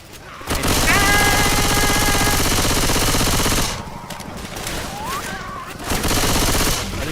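Video game gunfire rattles in a loud sustained burst of rapid shots for about three seconds, followed by a quieter stretch with scattered sounds and another burst near the end, and a voice heard partway through.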